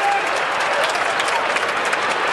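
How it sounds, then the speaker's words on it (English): Crowd applause at the 2007 AFL Grand Final between Geelong and Port Adelaide fills a large stadium with a dense, steady roar of clapping that runs unbroken throughout. "And that was the applause for Bomber Thompson"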